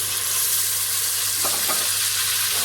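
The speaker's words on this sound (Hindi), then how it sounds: "अब हम इसके अंदर ऐसे आधे कप के करीब पानी डालेंगे" A steady, loud sizzle fills a hot pan, with a brief bubbling splash as about half a cup of water hits the surface midway through.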